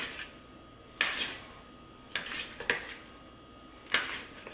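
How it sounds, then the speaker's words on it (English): A knife makes quick, deliberate cuts into risen yeast loaf dough in a pan, giving three or four short scraping strokes spaced about a second apart, close and fairly quiet against a faint room hum. "So then I'm gonna make my cuts quick and deliberate"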